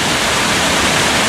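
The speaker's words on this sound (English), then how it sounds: "just about 100 metres further upstream from the iron furnace, is the weir" Water pouring over a river weir upstream of an old iron furnace in South Cumbria, a loud, unbroken broadband rush heard up close with no voices.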